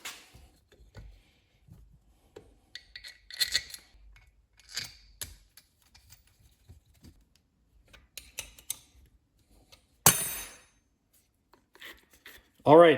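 Bolts being fitted into a Subaru Sambar starter during a rebuild make sparse, close metallic clicks, taps and light rattles, with a brief scrape around the middle and a louder clunk at the end.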